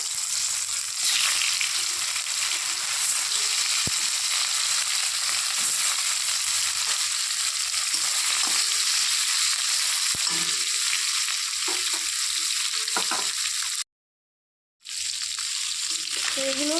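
Bhola fish frying in hot oil, a loud continuous crackling sizzle with brief clatters of a spatula, cutting out for a moment near the end.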